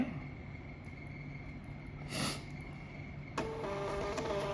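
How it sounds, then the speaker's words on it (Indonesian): A Panda PRJ-R80BL thermal receipt printer running from an Android cashier app, a faint steady whirr with a brief surge, then a louder continuous printing buzz near the end. "Nah, printer akan langsung mencetak."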